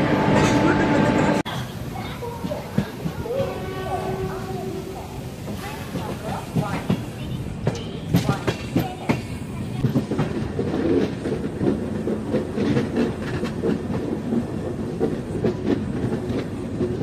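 Brand-new LHB Sapthagiri Express running from Chennai to Tirupati, heard as a steady rumble and rhythmic clatter of wheels over rail joints with a hissing wash of air, and a voice speaking over it.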